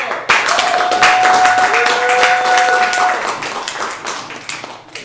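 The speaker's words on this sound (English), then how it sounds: "Let's get a round of applause" A round of applause from the audience at a live Money Talk Monday show, clapping for a guest after a question session, with voices and a tonal sound over it before it fades.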